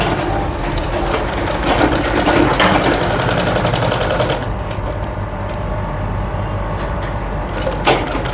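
An electric sewing machine stitches piping onto a blouse, running in a fast, loud, continuous mechanical whir with rapid needle rattle, pausing briefly before resuming at close range with no talk.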